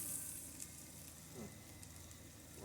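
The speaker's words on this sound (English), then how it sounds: "Okay, so we're going to get this kind of browned up here a little bit. Sauteed, sorry." Taco filling with jalapenos sautes in a pan, a faint steady hiss and sizzle with a couple of soft stirring scrapes, low in level with no speech.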